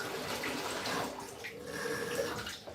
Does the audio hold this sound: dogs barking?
no